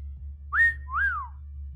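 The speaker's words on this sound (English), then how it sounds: "Oh god, why am I whistling?" Two short whistled notes, the first rising then held, the second swooping up and down, over a low steady hum.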